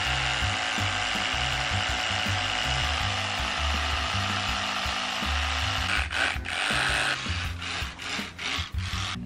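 An electric toothbrush brushing teeth gives a continuous close buzz with a scrubbing texture, turning choppy and rattly near the end as the strokes change; no one speaks.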